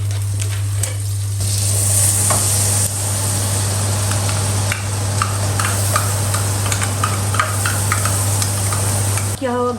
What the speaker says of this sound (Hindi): गार्लिक डाला है और chopped green chilli lightly saute करेंगे